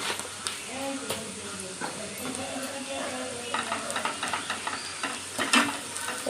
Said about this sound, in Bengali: এটা খুব ভালো করে নেড়ে নেব।